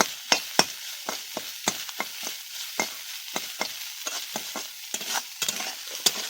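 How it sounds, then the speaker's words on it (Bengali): Garlic fries in a pan under irregular, sharp spatula strikes and scrapes against the metal, with a faint sizzle between the clacks and no speech. "সুন্দর করে যাতে না রসুনের গন্ধটা বেরোয় তার জন্য ভালো করে ভেজে নিতে হবে"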